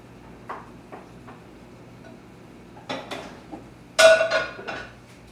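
A utensil scrapes and taps in a pan of browning zucchini-boat filling, with a few scattered clinks, then a louder metallic clatter as a lid is set on top, close and fairly quiet.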